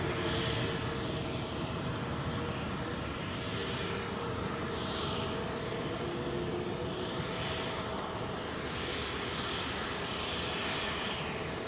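Boeing 787-8 Dreamliner jet engines roaring steadily at Heathrow, a loud, sustained broadband rumble with a constant whine on top and slowly swelling surges, no voices.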